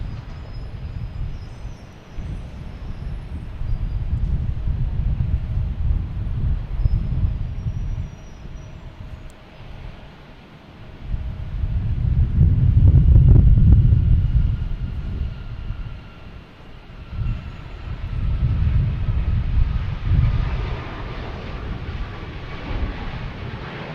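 A United Airlines Boeing 737 MAX 8 bound for San Francisco passes at Boston Logan Airport in gusty wind, its low jet roar swelling to a loud peak midway and then easing, with wind rumble throughout.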